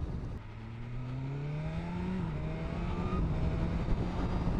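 A BMW S 1000 R naked motorcycle in road mode accelerates at about quarter throttle, its engine rising in pitch through the gears with clear shifts, heard close and steady over road and wind noise, with no talking.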